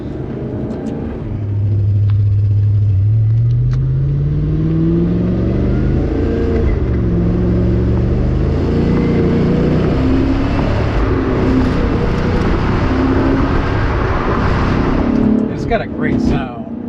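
A 2004 Maserati Cambiocorsa coupe with a 4.2L V8 and factory exhaust, driven in sport mode, revs loudly and climbs through the gears with a rising, throaty engine note, close and continuous.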